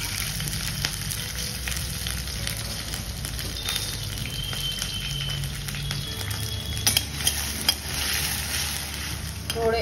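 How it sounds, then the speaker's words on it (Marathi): Potatoes and curry leaves sizzling in hot oil with popped mustard and cumin seeds for Nagpuri kande pohe, a steady close crackling hiss throughout with occasional sharper pops. "तडतडलं की मग आलू टाकायचे आधी, त्याचबरोबर कढीपत्ता"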